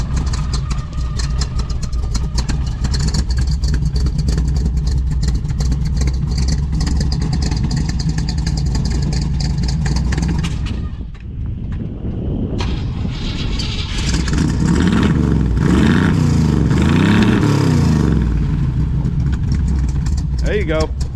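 A 1963 Chevrolet Impala with a lumpy performance cam idles loud and close, then revs up after a brief drop, the engine roaring steadily with talk mixed in.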